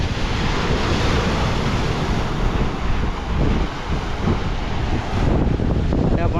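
Sea waves surge and crash around the coastal Ratneshwar Mahadev temple, where the shivling is submerged at high tide. A loud, continuous roar of surf is buffeted by wind on the microphone.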